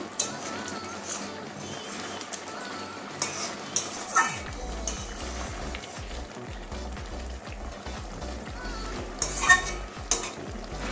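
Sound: stirring garam masala into fish roe curry

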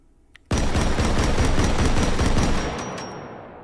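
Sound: Pancor Jackhammer shotgun firing semi-automatic in the video game H3VR

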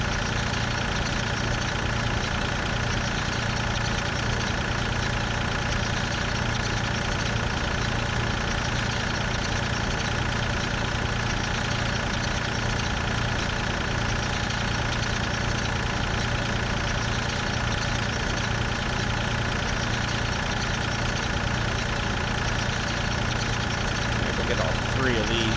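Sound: tractor engine running in the video game Farm Simulator 2013

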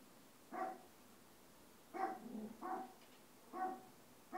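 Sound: dog barking

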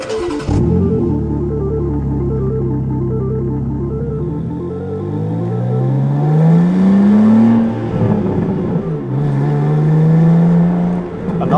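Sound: BMW M2 G87 manual car driving

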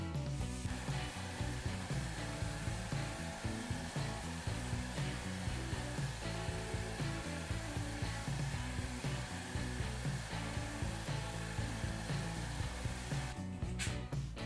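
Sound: shear scraping a wood vessel on a lathe

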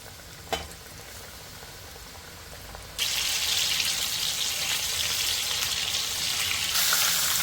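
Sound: mushrooms coated in breadcrumbs frying in oil

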